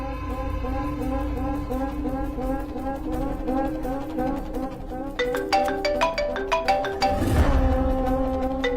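A phone plays a melodic ringtone in a Telugu TV serial, with repeating tones over background music, growing busier and louder toward the end.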